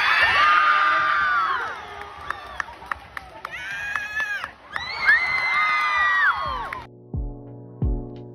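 Eighth-grade students cheer and scream at a school event, a loud crowd of high-pitched shrieks and whoops in long overlapping bursts, with clapping and scattered voices as it dies down.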